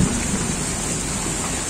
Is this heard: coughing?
no